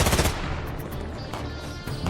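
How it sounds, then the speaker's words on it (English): Rifle fire in a wartime trench standoff: a loud shot at the start, then rolling gunfire and echo fade and swell, with another crack near the end. "LaPierre, use your rifle and take out the loud one."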